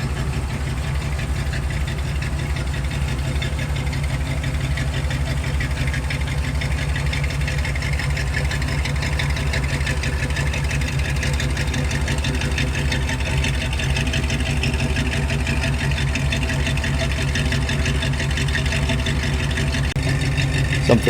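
A 1978 Jeep with its top off sits idling, its engine giving a steady, even low rumble that holds constant throughout without revving.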